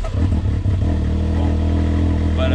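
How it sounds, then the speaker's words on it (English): A 200hp Can-Am Maverick 3 off-road vehicle with a blow-off valve, its engine droning loud and close, rough and steady, with a brighter hiss rising near the end. "That blow-off valve, I love that."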